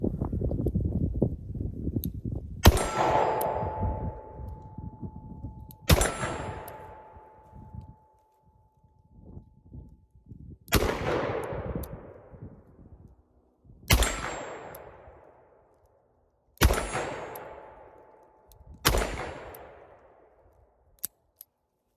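Six sharp shots from a Smith & Wesson Model 64 revolver fired outdoors in wind at steel targets, evenly spaced a few seconds apart, each a loud crack with a metallic ring off the steel trailing away.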